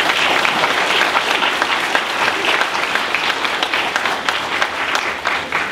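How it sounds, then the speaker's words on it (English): An audience gives sustained, even clapping at a school district's grand opening and ribbon-cutting ceremony for a new educational center, the applause dense and unbroken throughout. "Let's give Mike a round of applause."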